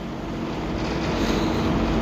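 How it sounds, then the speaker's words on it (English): A boat engine drones in a steady, loud rumble mixed with wind and water noise, continuous and close, with no talking, as the boat backs away from a dock. "It might be a little noisy because of the engine, guys."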